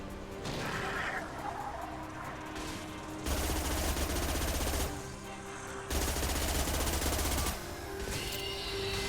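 Rapid automatic gunfire in Mass Effect 2 rattles out in two sustained bursts with pauses between, loud and close, over a low background hum.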